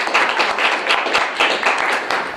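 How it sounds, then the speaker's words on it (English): Applause from a small studio audience welcoming a guest onto a talk show, steady dense clapping close by that fills the whole short stretch without talk. "Give him a round of applause."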